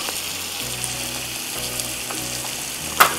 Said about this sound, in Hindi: अब मैं इसको थोड़ा सा भून रही हूँ।